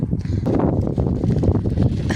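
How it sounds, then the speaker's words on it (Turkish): Gusty wind rumbles and buffets the microphone steadily throughout, a low, rough roar with no voices, on a rainy day just after the rain stopped. "Yağmur da durdu canlar bu sefer de rüzgar esiyor."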